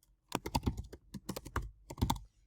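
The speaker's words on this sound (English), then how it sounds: "I can type the same" Fingers type on a Mac computer keyboard into a Python terminal, producing quiet, close clicky keystrokes in three quick bursts separated by brief pauses.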